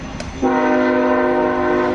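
A train passes close by and sounds a loud, steady horn blast that starts abruptly and holds over the rumble of the rolling cars.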